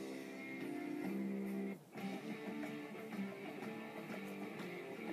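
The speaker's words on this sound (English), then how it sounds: "You can hear the music playing in the background." A rock song plays through iTunes as steady, fairly quiet background music, with sustained tonal layers, a brief dip near the two-second mark, then continuing evenly.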